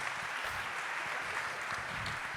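A conference audience at a music-venues industry day breaks into brief, steady applause, a short even wash of clapping without talk.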